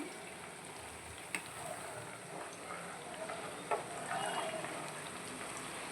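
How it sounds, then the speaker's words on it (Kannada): Butter melting down into ghee in a pan at home, a steady, close, soft frying sizzle with faint crackles and pops running throughout, no voices. "ನೋಡಿ ಈ ಥರ ಬೆಣ್ಣೆ ಎಲ್ಲ ಕರಗಿ ತುಪ್ಪ ಆಗೋದನ್ನು ಕಾಣ್ಬೋದು."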